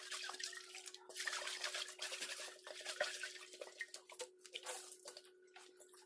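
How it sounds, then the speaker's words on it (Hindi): A cooking pot is scrubbed and rinsed in clean water at a village kitchen, soft irregular scraping, sloshing and drips, close and fairly quiet, with a faint steady background hum. "अब इस गंजी को धोएंगे हम ऐसे साफ पानी में।"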